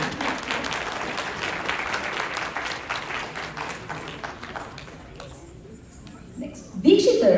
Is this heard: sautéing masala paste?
no